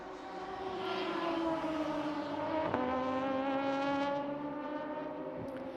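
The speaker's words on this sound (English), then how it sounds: "As that sounds like Julien Monet has made its way out." A race car in a Gulf Radical Cup qualifying session drives out onto the track, its engine note rising and steadying as a loud, sustained drone with a brief sharp crack midway.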